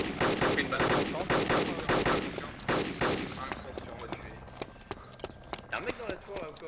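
Bursts of gunfire in the video game DayZ Epoch crackle through the first half, then thin into scattered single shots, with voices talking over them.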